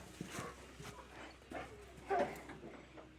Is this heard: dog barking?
yes